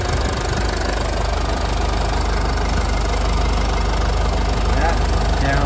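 A 2014 Mercedes-Benz GLK250 Bluetec diesel engine idles with the hood open, a steady loud clattering rumble running unbroken throughout.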